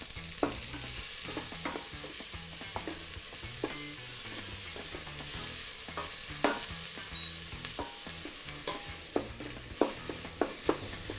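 Sliced white onion frying in oil for an Italian mushroom risotto, a soft steady sizzle broken by scattered utensil taps and scrapes, with no one speaking.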